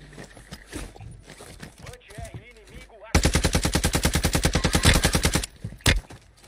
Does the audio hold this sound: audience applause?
no